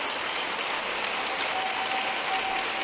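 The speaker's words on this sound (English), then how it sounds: "Yeah, everybody clap for reading." Audience applause at a State of the Union address, a steady dense wash of clapping from a large crowd that continues unbroken.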